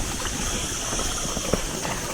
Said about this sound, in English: River.